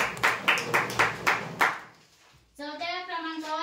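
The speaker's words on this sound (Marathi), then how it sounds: "जोरदार टाळ्या वाजवा." Hands clap at a weekly prize draw for a winner, a handful of slow, separate claps close by that fade out, followed by a voice speaking.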